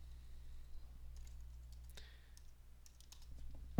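A few soft, faint clicks of keys pressed on a computer keyboard for a shortcut, set against a low steady hum in a quiet room, with no talk.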